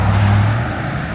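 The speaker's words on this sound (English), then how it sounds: "The tow truck's here." A tow truck arrives, its engine a loud, close low rumble that idles briefly and then eases off.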